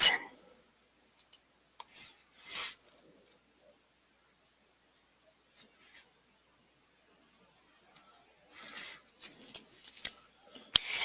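Computer mouse clicks in report-writing software, sparse and quiet, with a few isolated taps and a brief cluster of quick clicks near the end amid near silence.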